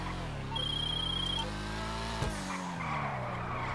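A car drifts in the video game GTA 5, its engine droning steadily while the tires skid and squeal, with a brief sharp knock partway through and no voices.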